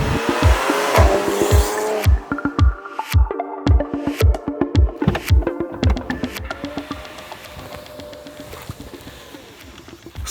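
A 2017 Porsche Panamera 4S accelerating hard in Sport Response mode with overboost, its engine revving up through repeated rapid gear changes, loud and close, with a sharp pop at each shift.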